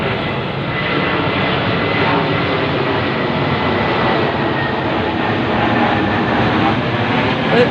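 Loud, continuous roar of a fixed-wing airplane passing overhead, a dense broadband rush that holds steady without pause for several seconds.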